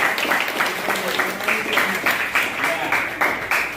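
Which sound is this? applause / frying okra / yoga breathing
applause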